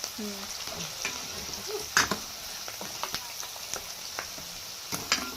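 Curry leaves and spices frying in a pan for a North Karnataka festive dish, with a low crackling sizzle broken by sharp pops and spatters, while a voice briefly talks over it.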